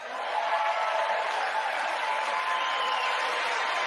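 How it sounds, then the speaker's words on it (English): A State of the Union audience in a large chamber keeps up steady, sustained applause that sounds distant and diffuse, a continuous wash of many hands clapping with no talking over it. "What are you clapping for?"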